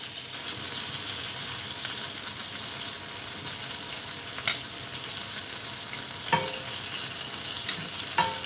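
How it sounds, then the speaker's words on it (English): Beef sears in a pan with herbs and fat, a steady close hiss and sizzle with a few light clicks and taps of utensils against the pan. "I'm going to flip it and just hold it. And this is in an effort to sear all sides of the beef"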